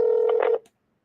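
Telephone keypad tones sound as a number is dialed to call a police line, a steady run of bright beeps lasting about half a second before cutting to silence.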